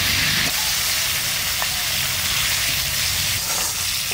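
Small koi fish drop into hot mustard oil in a pan and sizzle with a steady, loud hiss, close up and with no talking.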